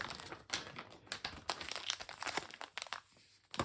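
Packets of yeast and additives for a home-distilling sugar mash crinkle and crackle as they are handled, a steady run of close, dry rustling bursts with a sharp crunch near the end.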